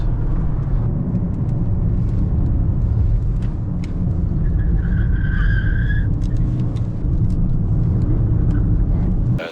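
Toyota Corolla 1.8 Hybrid, 140 hp, accelerating hard at full throttle in the city, heard from inside the cabin as a loud, steady engine and road roar that rises in pitch with speed, with a brief whine partway through.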